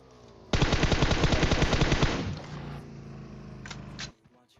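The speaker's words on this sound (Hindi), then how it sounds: "मेरे ख्याल से मैं 15-16 गोली चलाता हूं और दोनों बंदे ठिल जाते हैं।" Rapid automatic gunfire from a firefight in the mobile game PUBG Mobile, a loud sustained burst of about two seconds that thins into scattered shots and trailing noise, then stops abruptly.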